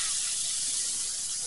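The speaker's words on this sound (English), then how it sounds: "We add our onions." Onions hitting a hot pan for a French chicken-in-vinegar dish give a steady, close hiss of sizzling that holds evenly throughout, with no talking.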